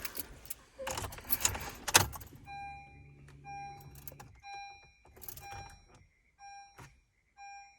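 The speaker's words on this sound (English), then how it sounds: "Let me get my keys." A bunch of keys jangles and clinks up close inside a Honda Fit, in a few quick rattling bursts, followed by the car's repeating electronic chime beeps.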